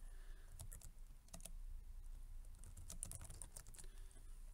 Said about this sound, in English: So let's go ahead and we'll type in a partial message up here.